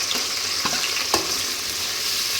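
Onions frying in hot oil with popped mustard seeds for a Tamil-style vegetable poriyal, giving a steady close sizzle with a few sharp crackles and stirring clicks scattered through it.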